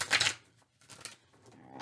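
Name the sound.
tarot cards being shuffled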